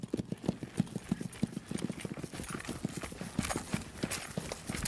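Horse hooves clip-clop in a steady, close, fairly loud rhythm as a rider works a young horse, with no talk over the footfalls.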